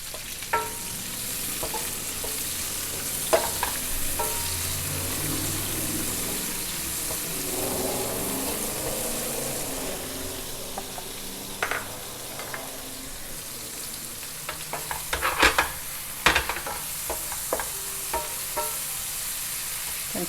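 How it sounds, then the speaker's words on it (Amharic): Red onion frying in a pan for salmon tibs, a steady sizzle running throughout with occasional stirring scrapes and sharper clicks toward the end. "ይሄ እንዲህ ትንሽ ጠበስ ካለ ቀይ ሽንኩርት እንጨምራለን"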